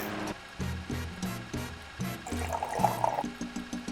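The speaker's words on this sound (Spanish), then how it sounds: "Ponemos una sartén a calentar y vertemos agua en ella." In the Cooking Simulator video game, water is poured into a pan on the stove, making a steady splashing gush at moderate volume over a repeating game background tone.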